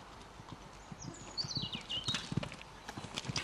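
A fairly small show-jumping horse's hooves clip-clop across an arena at a national amateur equestrian class, a light, quick irregular patter of hoofbeats, moderately distant and quiet.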